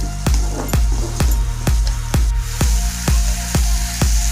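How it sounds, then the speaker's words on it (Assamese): Tomatoes fry in oil in a kadai, a close, steady sizzle punctuated by about nine evenly spaced metallic knocks of a spatula stirring against the pan. "আকৌ এনেকৈ লৰাই লৰাই ভাল ধৰণে ভাজি থাকিব লাগিব।"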